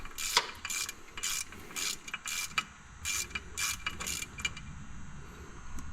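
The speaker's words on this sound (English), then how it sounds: "So you remove the pivot bolt." Ratchet wrench clicking in repeated bursts while a clutch pivot bolt is removed on a 2021 Polaris RZR Pro XP, sharp close metallic ratcheting strokes with short pauses between them.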